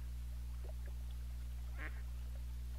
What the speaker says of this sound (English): There's a duck.